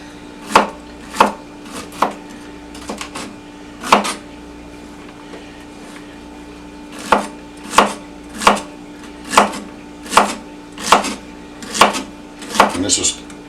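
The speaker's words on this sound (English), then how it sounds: "So I'm going to get to chopping on some of this stuff" Celery stalks chopped with a knife on a cutting board for a Dutch oven beef stew, a series of close, sharp, evenly spaced thwacks with a short pause partway through.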